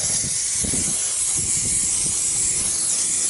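Brake cleaner hissing out of an aerosol can onto Ford Ranger parts, a steady close spray lasting the whole stretch.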